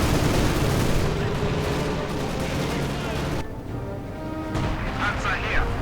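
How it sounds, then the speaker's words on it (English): Heavy mortars firing in the World War II strategy game Company of Heroes 2 during a 2v2 match, rumbling artillery booms and battle noise under an ongoing commentator's voice. "Heavy mortars just continue to fire away."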